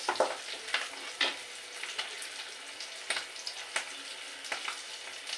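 Shrimp frying in hot oil in a pan, a steady bright sizzle with repeated sharp crackling bursts and occasional stirring scrapes, close and alone without talk.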